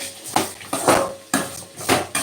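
A metal frying pan clanks and scrapes repeatedly, several sharp knocks in an uneven rhythm, close and fairly loud, with no talking.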